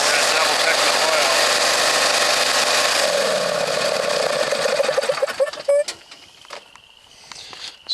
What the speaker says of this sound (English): I'm going to run the engine for a little while